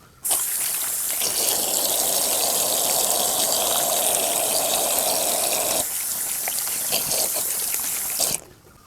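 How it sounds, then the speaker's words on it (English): Hands washed under a running tap at home, with water gushing in a steady, loud stream for several seconds before cutting off abruptly. "let's wash our hands"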